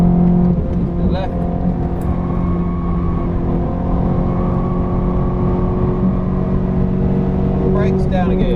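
A Ferrari race car at Silverstone circuit, its engine holding a loud, sustained droning roar close by, with the pitch steady and then rising briefly near the end, and a voice talking over it.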